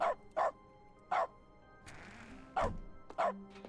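A dog in The Stanley Parable gives sharp single barks at irregular intervals, five in quick succession. They are close and clear over quiet game ambience, with a brief rushing noise in the middle.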